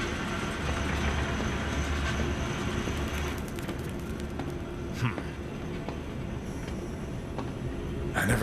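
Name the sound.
zoo gadget trolley train moving in video game Zoochosis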